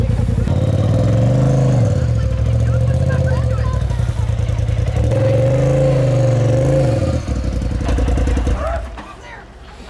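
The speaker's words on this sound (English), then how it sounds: "Sounds like a turbo." A new SxS side-by-side engine revs loudly and steadily, its pitch rising and falling in two long sweeps with a whistling turbo spool on top, while people talk over it.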